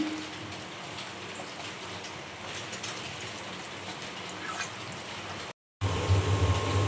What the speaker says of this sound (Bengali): আর অনেক বৃষ্টি শুরু হয়ে গিয়েছে